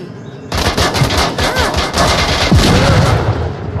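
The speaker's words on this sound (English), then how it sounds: "Oh god, they're throwing grenades and everything." Rapid bursts of automatic gunfire and booming grenade blasts in the VR shooter Onward, loud and close, kicking in abruptly and continuing in dense volleys with heavy low-end thumps throughout.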